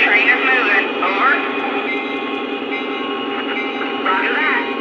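Panama Canal Railway F40PH diesel locomotive pulling a train, a steady loud engine drone with rail rumble and shifting tonal whine throughout, fairly close.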